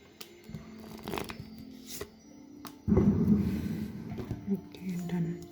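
Tarot cards being shuffled and drawn from a deck, soft papery flicks and slides followed by a denser rustling burst, close and fairly quiet with brief speech mixed in.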